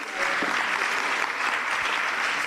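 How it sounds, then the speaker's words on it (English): Audience applause fills a hall at the Women's Economic Forum in Kenya, a steady, dense clapping from many hands that holds evenly for the whole stretch with no talk over it. "Another round of applause."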